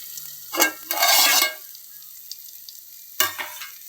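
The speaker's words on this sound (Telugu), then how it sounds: "స్టవ్ మీడియం ఫ్లేమ్లో పెట్టుకొని టమాటా మెత్తగా అయ్యేంత వరకు మగ్గించుకోవాలి" Tomatoes cook in a pan over a medium flame, with a few short bursts of stirring and sizzling separated by quiet pauses.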